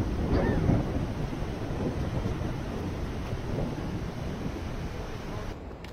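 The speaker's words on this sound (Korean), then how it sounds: "어마어마한 폭포네." Yosemite Falls in Yosemite National Park roars as a steady, broadband rushing of falling water, loud and continuous throughout with no talking over it.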